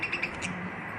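Pet budgies chirp in a few short, bright tweets at the start, then the sound settles into a soft, steady background twitter with no voices.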